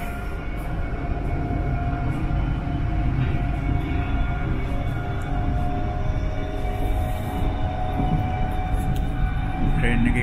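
Onboard a nearly empty train riding into Amsterdam Centraal, a steady low rumble and rolling hum of the railcar carry on without a break, close and even in level, with faint higher rattles drifting over the top.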